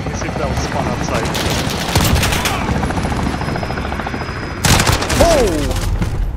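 Chopper gunner helicopter in Modern Warfare hovering with a loud continuous rotor thump, broken by bursts of rapid gunfire near the start and again at the end, along with a brief whistling sweep.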